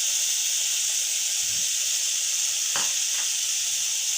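Spice masala sizzles and fries in a pan while being stirred for a chicken potato Maggi roll, a steady close hiss with a couple of brief scraping stirs, no talking.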